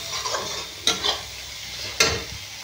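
A spoon stirs a spice masala frying in a pan, with two sharp scraping strokes over a soft, continuous sizzle heard up close.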